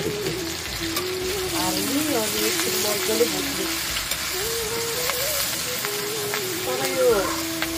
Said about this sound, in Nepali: साह्रो सुकुटी मासु त धेरै भुट्नु पर्दैन